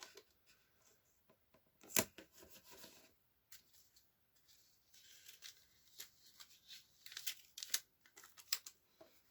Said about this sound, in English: first thing I'm going to do is going to tape the box shut